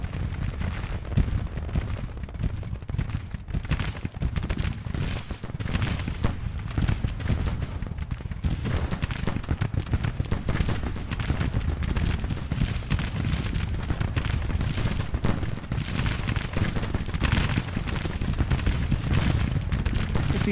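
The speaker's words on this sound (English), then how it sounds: "These guys are rifle armed, they're firing, we cannot hit them back" Massed Civil War rifle fire in a battle game crackles in a dense, continuous barrage of overlapping shots. The volleys are loud and rumbling and rise and fall without a break.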